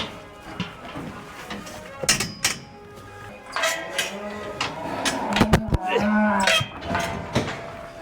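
A cow moos several times at close range in a farm shed, loud drawn-out calls broken by knocks and clatter, with a person speaking in between.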